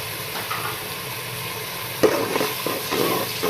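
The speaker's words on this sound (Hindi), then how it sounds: "इसको हम भून लेंगे 2 मिनट के लिए" Masala gravy with yogurt for an eggplant and taro curry fries in a pan, a low steady sizzle with a sharper burst of stirring and scraping partway through, no speech.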